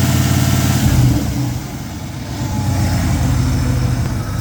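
The engine of a 1981 Daytona 500 pace car with a GM CCC computer system idles steadily with a low, even rumble and slight fluctuation, heard close up with no talking.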